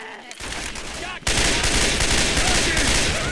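Rapid gunfire bursts in the zombie video game Left 4 Dead, loud and dense, starting quieter and then erupting into continuous fire, with voices faintly underneath.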